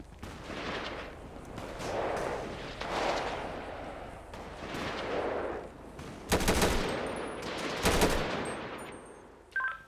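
Bursts of automatic rifle fire in a GTA roleplay game scene, rapid volleys repeating through the clip with two especially sharp, loud bursts near the end, no talk over them.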